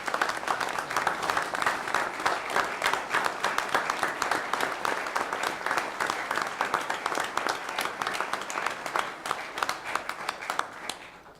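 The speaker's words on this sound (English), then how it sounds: "let's give them another big round of applause." Audience at a county board of commissioners meeting applauding, with sustained, dense clapping from a room full of people that holds steady for about ten seconds before tapering off.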